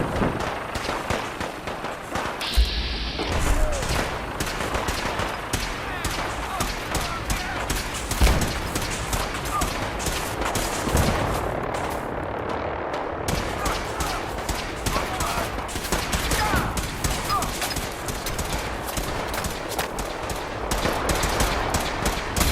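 Continuous crackling gunfire fills a Fallout 4 firefight, with dense rapid shots running throughout at a steady level and talk mixed in.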